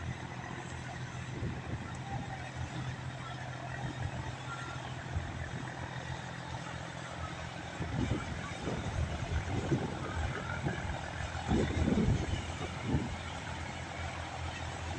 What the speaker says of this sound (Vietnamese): Có một chiếc ghe chạy rất là lẹ luôn